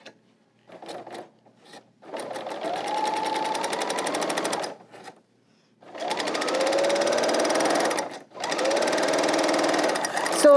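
An L890 sewing machine runs in three bursts of rapid, even stitching, its needle chatter loud and close, with short silent pauses between runs.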